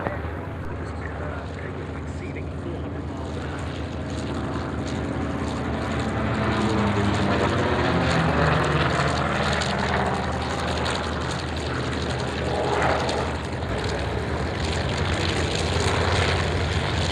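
A taxiing Douglas Skyraider propeller aircraft engine drones loudly and steadily at close range at the Duxford Flying Legends air show, holding a constant rumbling hum throughout.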